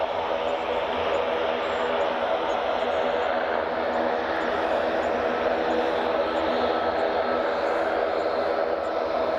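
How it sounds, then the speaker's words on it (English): Qatar Airways Airbus A350 jet engines roaring steadily and loudly throughout at Edinburgh Airport, a broad continuous rumble with no pauses, with faint voices underneath. "Here comes the A350."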